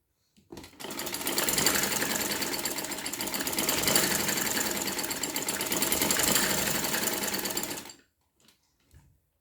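An electric sewing machine stitches a sleeve cuff in one continuous run of rapid needle chatter for about seven seconds, loud and close, then stops abruptly, leaving a couple of faint clicks.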